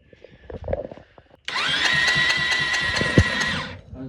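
After a brief stretch of muffled shuffling, a loud whirring starter motor turns over a 2018 Honda CRF250R dirt bike engine, slow-cranking with a starting fault, steadily for about two seconds, then cuts off.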